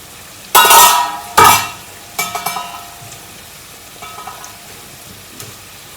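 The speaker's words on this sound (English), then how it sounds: "Just keep frying." Chicken jalfrezi frying in a pan, with two loud sizzling bursts followed by softer stirring scrapes and clinks of utensil on the pan, close and without talking.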